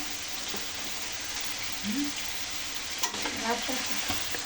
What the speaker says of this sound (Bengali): 1 কাপ পেঁয়াজ বাটা দিচ্ছি, রসুন 2 চামচ, নাড়া দাও